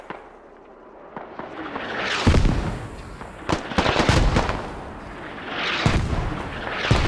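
Mortar rounds and explosions in the Squad combat game, Logar Valley skirmish: several sharp booming blasts burst out over a steady rumbling battlefield backdrop, with one heavy hit near the middle and another toward the end.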